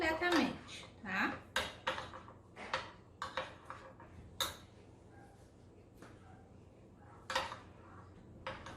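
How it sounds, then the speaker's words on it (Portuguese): A utensil scrapes and knocks against a bowl while chocolate is stirred until fully melted for gourmet Easter eggs, with irregular clinks and taps close by and a voice speaking at the start. "Agora eu vou mexendo até ele se derreter completamente"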